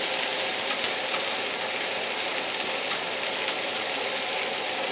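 Garlic sizzles in hot oil in a wok for a lotus root stir-fry with meat, carrots and beans, a loud, steady, crackling hiss that continues without any talk.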